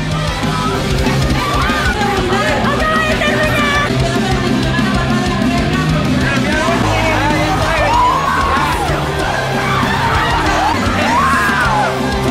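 A large concert crowd yells, screams and whoops continuously, loud and dense, with individual shrill voices rising above the roar throughout.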